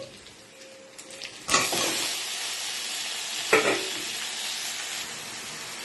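Dasta kachu leaves drop into a hot pan with prawns, setting off two sudden bursts of loud sizzling over a continuous frying hiss, close and without talk.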